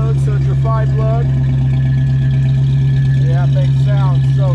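A 1967 Ford Mustang with a 302 V8 and automatic transmission idles close by, a steady low rumble running throughout with intermittent voices talking over it.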